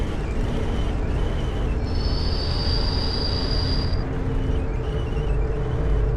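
In a video game, a train pulls into a station with a heavy rolling rumble and a high, thin wheel squeal that rises in the middle and then fades, all at a steady loudness.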